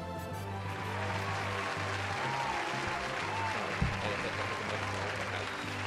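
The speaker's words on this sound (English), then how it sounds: "Applause for me" A preloaded applause effect plays from a sound board: a steady burst of crowd clapping at moderate level, continuous for several seconds with a brief thump near the end.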